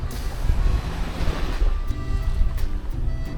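Ocean surf rolls onto an unspoiled beach on the southwest coast of Angola, a loud, steady wash with wind buffeting the microphone throughout and no voices.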